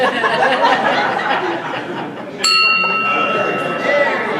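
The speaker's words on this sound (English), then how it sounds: "Oh, ring the bell." A bright bell rings once with a clear metallic strike that hangs and slowly fades, following murmured talk and soft chuckling.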